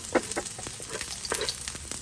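Garlic and onions frying in a pan for seafood spaghetti, a close, steady sizzle with a few scraping stirs, heard alone without talk.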